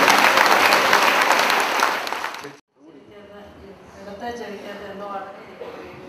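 A church congregation applauds in thanks during a prayer service, loud dense clapping that fades out after a couple of seconds, followed by a short silence and then voices talking quietly over room noise.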